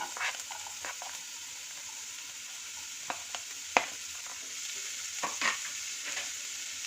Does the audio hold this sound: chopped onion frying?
yes